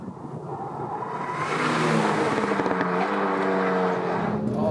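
A Renault Megane R.S. front-wheel-drive car cornering fast, heard from inside as a steady, rising engine drone that builds in loudness and holds a strained note through the bend.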